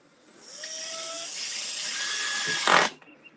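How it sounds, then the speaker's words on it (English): Cordless drill on its lowest clutch setting driving screws into a new cabinet: a steady close-up whirr lasting a couple of seconds, then a brief louder ratcheting burst as the clutch slips, then quiet. "I'm using my drill. I've got the clutch, on its lowest or next to lowest setting here"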